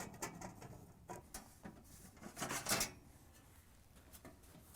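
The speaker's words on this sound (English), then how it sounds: "Using a 5/16" nut driver, I'm taking the 6 screws that holds the panel out and then removing the access panel." A 5/16-inch nut driver backs out the six screws on the rear access panel of a GE refrigerator, and the panel is lifted away. Close, scraping and rattling handling noises come in irregular bursts, peaking in a louder clatter midway, without speech.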